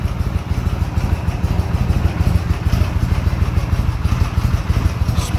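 A 1982 Harley-Davidson FLHP motorcycle idling after a cold start, its V-twin thumping in a loud, even, rapid low pulse close to the listener with no talk over it.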